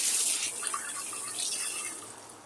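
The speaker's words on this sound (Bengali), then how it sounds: "বাটিতে নিয়ে ধুয়ে নিব।" Two eggplants are washed in a bowl of water under a running tap. The water splashes and trickles steadily at close range, fairly quiet, with no talk.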